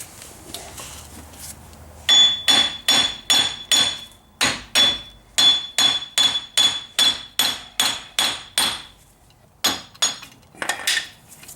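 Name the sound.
hammering on a car axle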